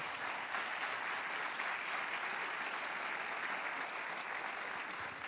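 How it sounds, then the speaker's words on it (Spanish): A church congregation claps hands steadily in praise during a Pentecostal service, a dense, even wash of applause from many people that holds for several seconds without pause, heard from a moderate distance. "Vamos, dele palmas al Señor si quiere."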